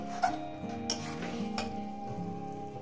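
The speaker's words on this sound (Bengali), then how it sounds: "আলু আর এঁচোড় দিয়ে দিলাম। দিয়ে আরো কষবো। আরো আমি 3 মিনিট ধরে কষবো।" Potato and jackfruit pieces stir-fried in a pan for a Bengali jackfruit curry with goat fat, giving a steady soft sizzle with scraping and clinks of a spoon against the pan, close and continuous with no talk.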